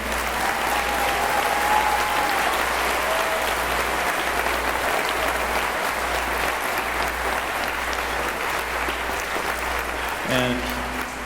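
Loud, sustained audience applause at a high school band and choir pops concert, dense and even throughout, with faint voices and a brief tone near the end.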